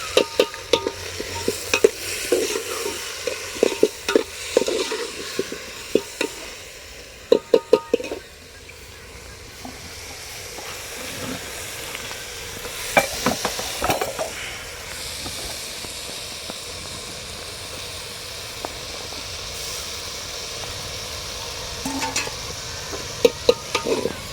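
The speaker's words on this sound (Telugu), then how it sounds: "పప్పు నూనెలో మంచిగా ఫ్రై చేయాలి." Moong dal frying in oil is stirred with a spoon, scraping and clinking against the pan in sharp bursts over a continuous soft hiss and sizzle that runs through the whole stretch.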